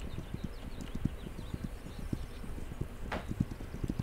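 Horse hooves clip-clopping at a steady walking rhythm in a video game about frontier land, the rider's horse slowed by an injured leg; close, even and unaccompanied by speech.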